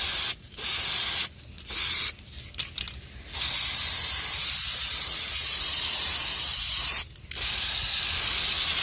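An aerosol spray paint can sprays in a loud hiss, first in several short bursts, then in one long continuous spray with a brief break near the end.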